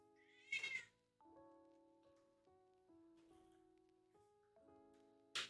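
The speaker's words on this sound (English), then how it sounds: "I'm not sure if you can hear Passion, but she is the loudest one." A cat meows several times, loud and close, with a long tonal yowling cry between sharper bursts, and no one talks over it.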